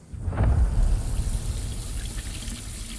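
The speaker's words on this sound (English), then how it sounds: "I poured water into the sink" Water is poured into a sink to rinse overalls. A steady, fairly loud splashing stream starts with a gush and then keeps running alone.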